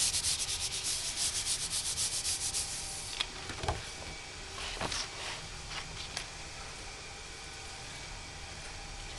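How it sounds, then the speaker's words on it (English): Paper is rubbed over a doily laid on painted fabric, giving a steady, close scratchy friction with repeated strokes that grow slightly softer and more scattered toward the end. "I'm just rubbing where the doily is."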